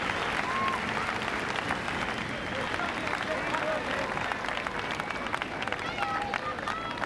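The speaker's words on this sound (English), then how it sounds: "As Hardwick receives a great round of applause here from the Leichhardt Oval fans." A crowd of rugby league fans at Leichhardt Oval applauds steadily for a player during a 1990 Balmain Tigers versus Brisbane Broncos match, a dense and even roar of clapping with a commentator talking over it.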